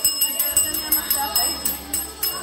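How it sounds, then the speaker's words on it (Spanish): A bell rings in quick repeated strokes, bright and steady, with a faint murmur of voices underneath. "¡Campana!"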